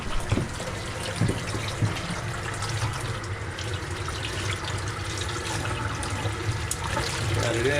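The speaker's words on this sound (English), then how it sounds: "Got it inside with the warm water, getting it unbanded." Warm water runs from an indoor tap as a tie-dye shirt is rinsed and its bands are taken off. The flow is a steady, close trickle and splash, with a voice talking over it now and then.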